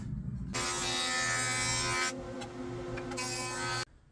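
A jointer runs with a loud, steady motor whine as it planes wood stock for a trestle bench. Two long passes are broken by a quieter stretch, and the sound cuts off abruptly at the end.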